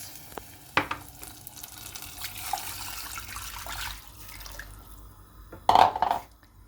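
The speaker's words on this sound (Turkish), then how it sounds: "5 su bardağı suyumuz ilave ediyoruz." Five glasses of water poured into a pot of toasted vermicelli with tomato sauce for soup: a soft running, sizzling wash with a few clinks and splashes, ending in a louder close splash near the end, no talking.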